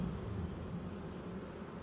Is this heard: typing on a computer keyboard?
no